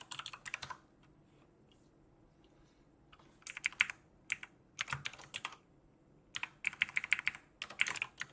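Typing on a computer keyboard during a live coding session, heard as bursts of quick, close clicking keystrokes separated by short pauses, with no talking.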